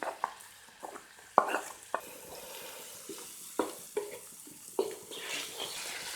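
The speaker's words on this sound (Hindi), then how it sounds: "टमाटर ऐड करके भून लेते हैं।" Tomatoes frying in spiced masala in a pot for layered biryani, a constant close sizzle broken by repeated sharp scrapes and clacks of a spoon stirring against the pan, with no talking.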